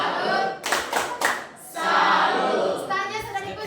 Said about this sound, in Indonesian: kita berikan tepuk salut untuk jajaran kelompok 4